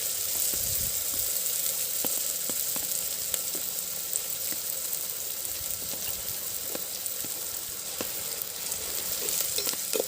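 Curry leaves and green chillies sauté in a pan for a country chicken curry, giving a continuous close sizzle with occasional light clicks of a stirring spoon and no talking.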